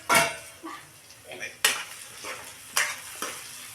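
Tomatoes frying in a pan, stirred with a utensil: loud scraping and clinking strokes against the pan every second or so over a crackling sizzle, close by.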